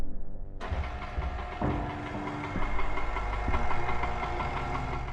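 An electric stand mixer beats thick icing with confectioner's sugar, a steady close motor drone with a low knocking churn that starts abruptly and runs on without talk.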